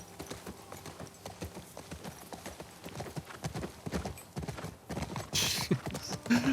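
A branded horse walks along a city street in The Last of Us Part II, its hooves clip-clopping in a steady rhythm that gets louder and closer, with a brief neigh near the end.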